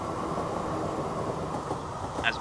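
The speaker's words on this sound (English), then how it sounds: "nope, that's a diesel train" A diesel train in the Transport Fever 2 simulation game rumbles steadily at moderate distance, a continuous low rolling drone with faint rail clatter and a brief brighter squeal near the end.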